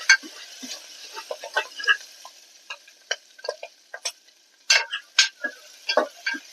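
Chopped onion pieces fry in a pan with garlic for goat leg (mutton paya) soup, giving scattered, close crackles and sharp pops in irregular bursts over a quiet background.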